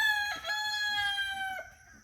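A rooster crows loud and close among a flock of chickens, the long drawn-out call standing out over soft clucking, with no talking.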